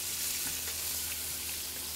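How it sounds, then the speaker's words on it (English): Ribeye steaks searing over high heat give a loud, dense, continuous sizzle that stays steady throughout, with no voices. "really we're just gonna sear these for about a good 30 seconds on both sides"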